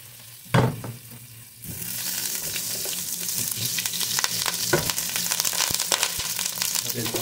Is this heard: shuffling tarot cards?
no